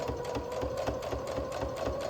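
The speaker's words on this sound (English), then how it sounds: "Here I'm just chain stitching these together, one right after the other." Sewing machine chain stitching quilt fabric pieces one after another, a steady, close mechanical whir with rapid rhythmic needle rattle running evenly throughout.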